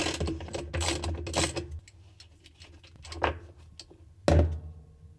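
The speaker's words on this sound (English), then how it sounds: "Now, using a 10mm socket, remove this bolt." A 10mm socket and ratchet loosen a bolt on a Samsung top-load washing machine (model WA456DRHDWR/AA) during disassembly, giving bursts of close, loud ratcheting clicks with pauses between them and a final sharp metallic clunk.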